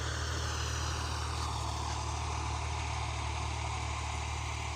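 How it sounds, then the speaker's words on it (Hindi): A tractor plowing a field for cotton sowing gives a steady, close droning engine note with a constant low throb, unbroken and with no voices. "ट्रैक्टर हल वाह रहा है"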